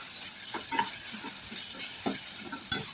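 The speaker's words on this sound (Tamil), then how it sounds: "இந்த தக்காளி வந்து நல்லா ஓரளவுக்கு வதங்கணும்" Tomatoes sauté in a pan for a Tamil egg curry (muttai kulambu), with soft sizzling under a constant hiss and a few scraping stirs of a spatula at irregular intervals.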